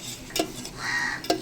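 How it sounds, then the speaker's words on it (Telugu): A spoon stirs flour into a little water in a small bowl, making a brief soft scrape with two light clinks against the side. "ఇదిగోండి ఇలా అయితే కలుపుకుందాం."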